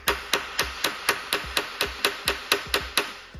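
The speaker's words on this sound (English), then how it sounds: "You take a little bit of a metal hammer," A steel metal hammer taps a steel turbo clamp on a Mini Cooper during a turbo cartridge replacement, about a dozen sharp metallic strikes in an even, quick rhythm, close and clear with no talking.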